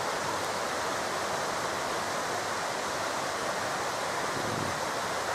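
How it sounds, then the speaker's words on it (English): A small waterfall runs off a field on a countryside walk near Llangollen, a steady close rushing of water with no talk. "You've got a little waterfall there, have you?"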